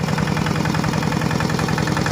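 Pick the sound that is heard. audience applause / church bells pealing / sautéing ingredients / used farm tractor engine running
used farm tractor engine running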